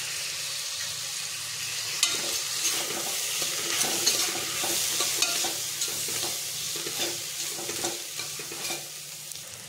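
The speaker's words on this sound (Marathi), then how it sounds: "आता हे आपल्याला छान हलवून घ्यायचं आहे।" A one-pot meal with kasuri methi is stirred in a pan: a steady close sizzle with repeated scraping and clinking strokes of the spoon against the pot.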